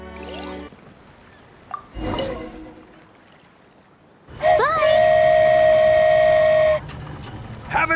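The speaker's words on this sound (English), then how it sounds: "Wow, a train ride over the sea?" A train in the video game Genshin Impact sounds a sustained, loud whistle blast for a couple of seconds, preceded by quieter game effects and brief chimes.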